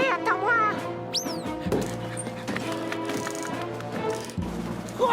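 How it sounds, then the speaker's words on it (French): Odie, the cartoon dog from Garfield, gives excited yips, whimpers and pants amid cartoon sound effects and music, lively and close, with brief voice sounds mixed in. "Je l'ai jamais entendu aboyer comme ça, c'est pas normal."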